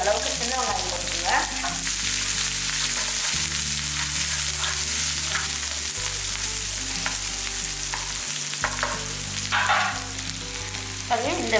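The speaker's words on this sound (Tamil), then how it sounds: "இப்போ ஒரு கைப்பிடி அளவுக்கு சின்ன வெங்காயம் போட்டுருங்க." Small shallots sizzle steadily in hot oil for a plantain curry, a dense continuous frying hiss with occasional stirring clatter in the pan, close and even throughout.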